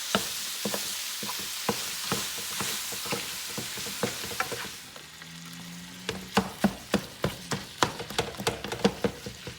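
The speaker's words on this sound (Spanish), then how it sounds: "Aquí seguimos friendo mi carne molida y separándola." Ground beef sizzles steadily in a hot pan while a utensil scrapes and taps repeatedly, breaking it up in a quick, uneven rhythm.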